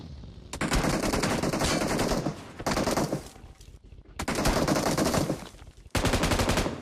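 Bursts of M249 machine gun fire in a video game, four long loud automatic strings separated by short pauses, rapid and dense.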